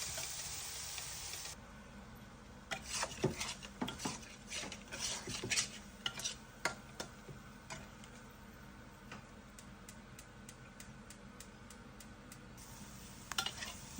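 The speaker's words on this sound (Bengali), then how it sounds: "মশলায় তেল ওঠার পরেও বন্ধুরা আমি অনেকক্ষণ এটা কষাইছি।" Cumin powder and spices sizzling in hot oil in a pan, a steady frying hiss broken by the scrape and clink of a spoon stirring against the pan, with clustered knocks midway and a few isolated taps later.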